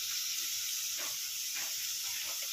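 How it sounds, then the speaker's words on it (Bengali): Cabbage sizzles steadily in a hot pan as ginger paste and chopped green chili are added, with a constant bright frying hiss and a few soft stirring scrapes. "সেই আদা পেস্টটা দিয়ে দেবো, লঙ্কা কুচি দিয়ে দেবো,"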